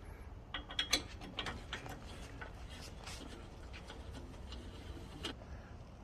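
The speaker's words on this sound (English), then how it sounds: "So left and right pedal, remove the bolts from underneath." A ratchet removing bolts from the underside of pedals: quick bursts of ratcheting clicks, most pronounced in the first couple of seconds, then sparser and fainter, quiet and close.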